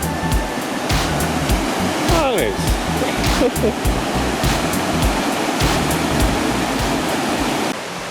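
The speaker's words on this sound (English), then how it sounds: "right next to it is some falling water" Kakabeka Falls pours in a steady, loud roar of falling water, a broad constant rush close by with a brief spoken word over it.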